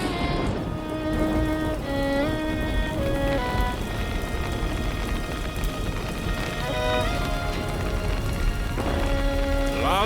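Rain pours steadily with a continuous soft hiss beneath background music.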